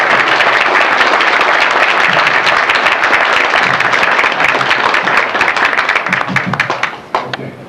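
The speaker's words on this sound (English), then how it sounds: "So let's round of applause" A large convention crowd gives sustained, loud applause for the Hasbro panel at a Transformers fan gathering. The clapping is dense and continuous, then tapers into a few scattered claps at the end.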